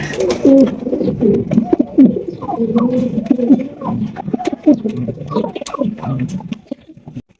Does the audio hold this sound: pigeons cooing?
yes